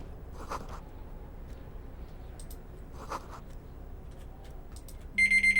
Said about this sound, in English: There's that timer I told y'all about.